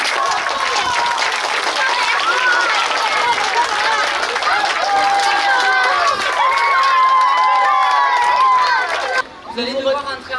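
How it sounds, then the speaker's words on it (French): A poetry festival audience in Bessan breaks into loud sustained applause with cheers and chatter mixed in, voices calling over the clapping before it cuts off abruptly near the end, followed by brief talk. "je voudrais vraiment qu'on fasse un tonnerre d'applaudissements à Sylvie et Maryse qui ont porté ce projet."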